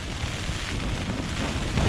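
Steady coastal wind at St Abb's Head, Scotland, buffeting the microphone in a dense, low rumbling roar with no pauses, no voices, and a slight gust at the end.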